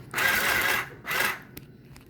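A home sewing machine stitching the hem of a crop top made from an old dress, with two close bursts of motor whir and needle chatter separated by a short pause, then a faint click.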